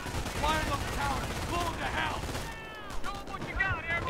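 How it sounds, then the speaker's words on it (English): Machine guns in towers fire in the World War II strategy video game Company of Heroes. Rapid bursts of gunfire crackle continuously under soldiers' shouted voice lines. "The MGs in the towers are chewing us up."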